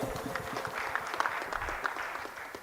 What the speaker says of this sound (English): Congratulations, a round of applause for her.